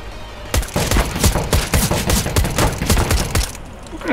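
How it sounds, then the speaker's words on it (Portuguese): Rapid bursts of gunfire in Counter-Strike: Global Offensive on the Mirage map, sharp repeated shots in quick succession, loud and close, continuing for several seconds before cutting off abruptly. "qual que é tanto tiro?"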